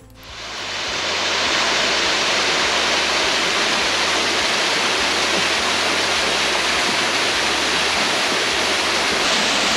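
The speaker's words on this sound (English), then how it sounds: "It's always a nice sound to be able to listen to the water going over the top of a waterfall." Steady, dense roar of water pouring over a waterfall at Cradle Mountain, Tasmania, in early March, loud and close, rising in over the first second, then continuous and unbroken, with no voices.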